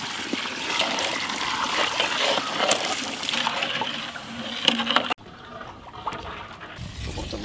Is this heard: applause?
no